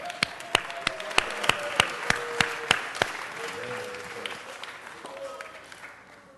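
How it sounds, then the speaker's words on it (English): Clapping from a small group at a city council meeting: roughly ten distinct, evenly spaced claps that soften and trail off, with voices faint underneath. "Let's give them one more round of applause."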